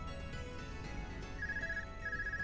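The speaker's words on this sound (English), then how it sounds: "We're getting a phone call." A phone ringtone from the video game Trails of Cold Steel 2 plays over soft game music, a repeating electronic tone pattern that sounds twice, clear and moderately quiet with no voices.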